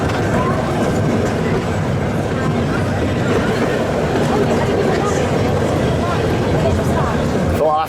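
A passenger train ride at Europa Park rumbles steadily and loudly throughout, a dense rolling clatter of wheels on track with no clear pauses.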